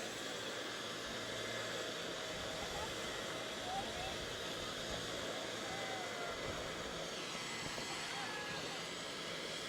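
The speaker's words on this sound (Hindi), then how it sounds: "इसका जो इंजन है वो इस समय स्टार्ट हो चुका है" A helicopter's engine runs on the ground before takeoff, a steady loud broadband whine and rush that holds evenly throughout, with faint talk underneath.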